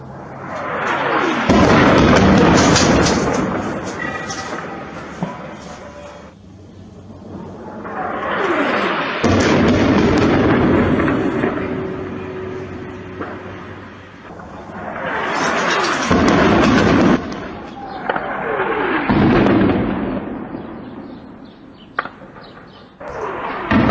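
White phosphorus artillery rounds bursting over the Iraqi city of Mosul: four long, booming blasts, each swelling and rolling away before the next, loud and distant-sounding, with no voices.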